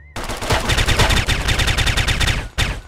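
Rapid automatic gunfire from the video game Breach of Contract: a loud, steady stream of close shots with fast, even rhythm, pausing briefly before a final burst.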